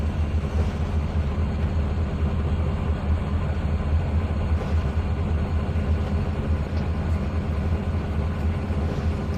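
A long freight train of about thirty cars rolls past in the Trainz 2019 railway simulator, a steady low rumble that drones continuously at an even level with no voices.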